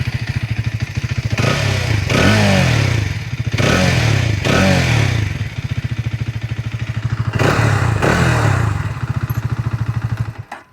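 A Hero Xtreme 250R motorcycle exhaust note up close, a loud steady idle thump rising in repeated throttle blips and revs, then cutting off at the end.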